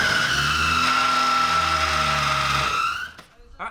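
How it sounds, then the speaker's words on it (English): Boat-converted car engine with its alternator jammed against foam, a loud steady high-pitched squealing grind with a low engine hum beneath, close, cutting off after about three seconds into quieter clatter. "That's just grinding foam."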